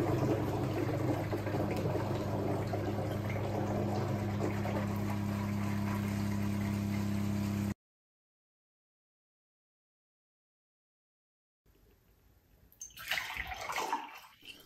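Water drawn from an Ecoviva WP-RO-200G reverse osmosis system into a jug: a steady, faint rushing flow with a low hum that stops abruptly, then quieter splashing and handling noise after a silent gap.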